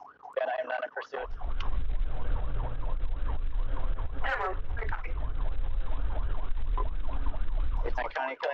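A wailing emergency siren cycles steadily under a loud engine rumble, with brief speech before it starts and after it cuts off.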